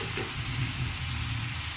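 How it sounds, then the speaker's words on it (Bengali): Cut potatoes go into a hot cooking pan, setting off a steady, dense sizzle that holds at an even level throughout, close and continuous with no talking. "আলুগুলো এর মধ্যে দিয়ে দিলাম।"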